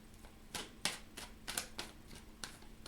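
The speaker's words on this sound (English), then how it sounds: "And one more shuffle, I feel." Quick crisp riffling bursts of a tarot deck being shuffled, about eight sharp flurries in a loose rhythm, close and fairly quiet.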